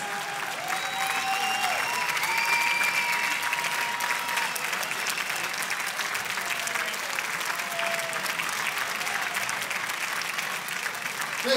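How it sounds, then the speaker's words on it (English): A basketball game crowd in a high school gym applauds first responders, sustained steady clapping filling the hall with whistle-like tones and murmured voices underneath. "We give you guys a round of applause."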